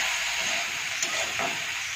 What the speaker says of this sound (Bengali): বীজ ভাজা হচ্ছে